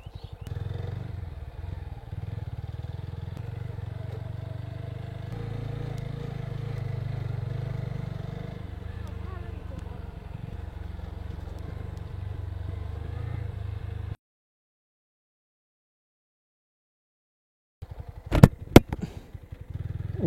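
A motorcycle rides beside a small lake, its engine a steady close rumble for about fourteen seconds, then silence, followed by brief clatter and handling noises.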